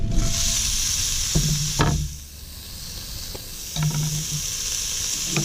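Food sizzles and fries steadily in a pan over a camp stove on a hike, a constant hissing bed broken by a few clinks and stirring scrapes, with no talking.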